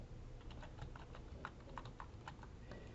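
Computer keyboard typing of a NetID and password at a library sign-in page, a quick run of light clicking keystrokes, faint and close, with a soft background hiss and no voices.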